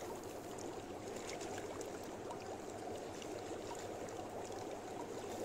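Jacuzzi bubbles churning in a steady, even wash of soft bubbling water that holds at a constant level throughout, with no voices.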